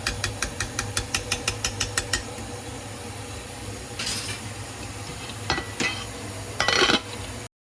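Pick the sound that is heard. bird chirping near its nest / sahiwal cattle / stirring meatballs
stirring meatballs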